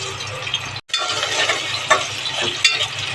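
Chopped onion goes into hot oil already holding cumin seeds for a soybean biryani, answering with a steady, close sizzle and crackle broken by a brief gap, then light stirring and a few clinks.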